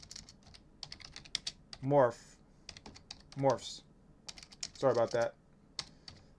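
Rapid clicking of a computer keyboard as someone types search text, bursts of keystrokes running through the clip and interrupted by brief stretches of someone talking.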